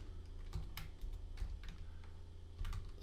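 Keys clatter on a computer keyboard as a folder name is typed, a quick run of soft, close clicks with brief pauses over a low steady hum.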